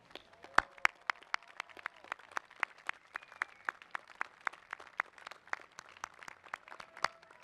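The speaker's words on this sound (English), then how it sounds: "give them a big round of applause" Commencement audience at an undergraduate graduation applauding, a steady patter of many claps heard from a distance, fairly faint, with no talking.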